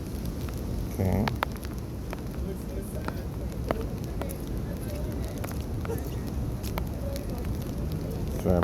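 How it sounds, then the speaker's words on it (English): Steady rain falls outdoors near a federal appeals court in Seattle, a constant close hiss that fills the whole stretch with a few brief louder knocks and a voice in it. "Sorry about the rain."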